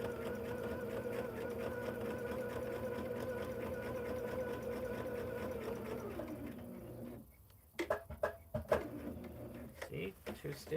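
A sewing machine runs steadily while stitching hexagon quilt pieces together, then stops and gives a few short bursts of stitches, with handling clicks near the end.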